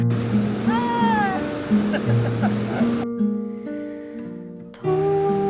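A small cat meows during a mountain hike in the Écrins, a few short, rising and falling mews over a steady outdoor rush like flowing water, with people talking softly nearby.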